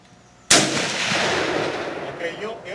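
A Mosin Nagant 91/30 rifle fires one loud, close shot at balloons, a sudden blast followed by a long rolling echo that fades slowly.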